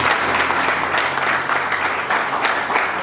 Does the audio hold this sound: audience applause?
yes